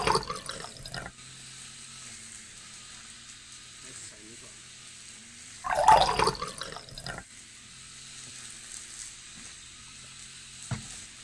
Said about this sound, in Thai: แล้วเราก็จะใส่ในนี้น้ำจะพร้อมไหมลงไปในนี้